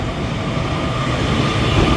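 Northern train standing at platform 13 of Manchester Piccadilly station, a steady loud rumble of engine and rolling stock with a faint high whine, continuous for the whole stretch and no voices.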